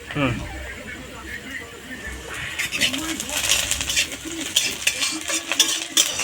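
Onion frying with whole garam masala and cumin while being stirred for ghugni, a steady sizzle under bright scraping and clinking of a spoon against the pan that grows busier toward the end.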